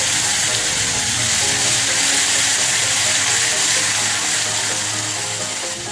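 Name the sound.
garlic paste frying in a pan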